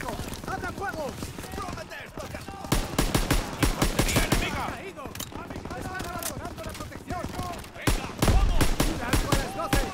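Call of Duty WW2 combat with rapid bursts of rifle and machine-gun fire, repeated sharp shots in quick clusters, heard up close alongside game voices and a player talking over the action.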